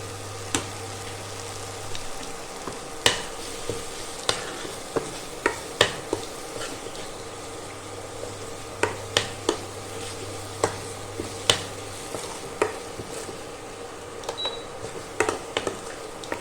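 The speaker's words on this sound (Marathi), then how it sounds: "आपण जी मिल्क पावडर घेतलेली होती ती मिल्क पावडर आता ह्यामध्ये घालून तीसुद्धा त्याच्याबरोबर परतून घेऊया" Milk powder being sautéed in a pan for an instant korma, giving a steady soft sizzle under repeated close scraping and tapping of the stirring spoon against the pan.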